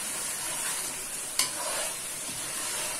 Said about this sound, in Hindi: लो फ्लेम पे इसे भूनते हुए तकरीबन मुझे 7 से 8 मिनट हो गए हैं